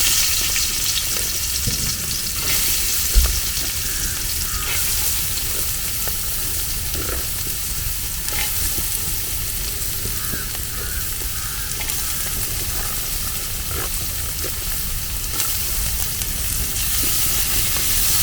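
Green chillies, onion, garlic, ginger and curry leaves frying in hot oil, a dense continuous sizzle with intermittent stirring scrapes and one sharp knock, loud and close, no speech.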